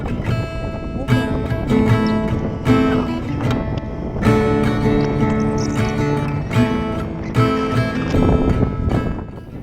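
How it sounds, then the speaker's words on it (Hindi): Strong wind roars across the high mountain Sela Pass near Sela Lake in Arunachal, a dense gusting rush buffeting the microphone continuously, swelling and easing in waves. "पास पर हवाएं बहुत तेज चलती हैं, आप सुन सकते हैं हवा का गरजना।"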